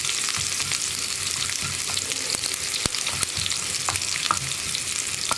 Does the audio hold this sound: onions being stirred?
yes